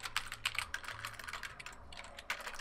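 Rapid keyboard typing on a computer, a run of close, dry key clicks in uneven bursts with a brief pause near the middle, sounding alone without any talk.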